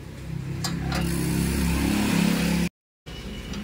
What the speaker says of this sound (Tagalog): bumabacuum na siya